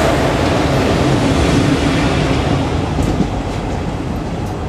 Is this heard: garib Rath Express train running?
yes